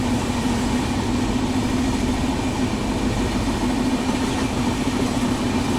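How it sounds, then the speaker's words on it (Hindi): The Jallianwala Bagh Express picking up speed between Jalandhar and Delhi, heard from inside as a loud, steady rumble and drone of the moving train with faint rail clatter, continuous throughout. "तो गाइस पिकअप उठा लिया हमारी ट्रेन ने"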